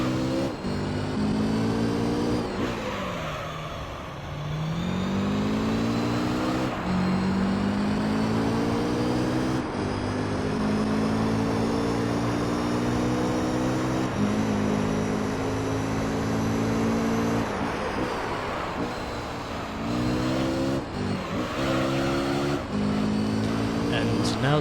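Gran Turismo 3 race cars, including a Toyota Supra and a Honda Raybrig NSX, drone steadily through an All Japan GT championship race, engine notes rising and falling with gear shifts while someone talks over them.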